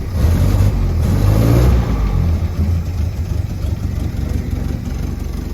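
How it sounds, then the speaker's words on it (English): A 1951 Land Rover Series 1 engine catches after a push-button start and revs with a little throttle, a loud, close mid-pitched roar that swells early and then settles into a steady running rumble. "a push button to start. There we go, a little bit of gas."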